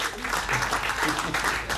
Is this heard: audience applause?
yes